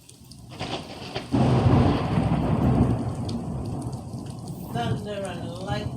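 Heavy Florida afternoon rain pours steadily while a loud rolling thunderclap booms close by and rumbles on, with a brief chirping sound near the end.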